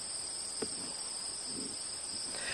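Late-summer crickets trill steadily in an open meadow, a faint, continuous high-pitched drone with no voices, broken only by a couple of soft nearby rustles.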